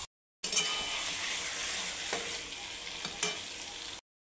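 Chicken pieces go into hot oil and fry over low heat for chicken kosha, a sudden burst of sizzling that settles into a steady hiss with a few stirring scrapes, close and moderately quiet, no talking.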